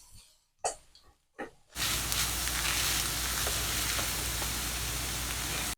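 Vegetables, salt and corn sizzle in a hot pan as they are stirred for vegan enfrijoladas; after a few short scraping bursts, a loud, steady broadband sizzle fills the rest, close and continuous with no talk.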